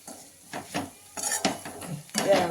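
A spoon stirs jaggery into sizzling tempering spices in a pan for a sweet-sour bitter gourd curry, giving a few scraping clinks and soft bursts of frying crackle, close and uneven.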